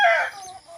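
A rooster crows nearby on a banana farm, one loud, strained call that trails off quickly into quieter background sound.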